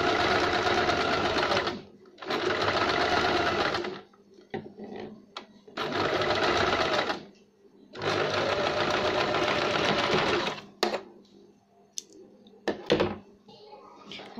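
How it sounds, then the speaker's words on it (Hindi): A sewing machine stitches the side seam of a boat-neck designer blouse in four loud bursts of steady whirring, each about two seconds long, separated by short pauses with light handling knocks and thumps, and no talking. "इसी तरह हम पूरी सिलाई लगाएंगे।"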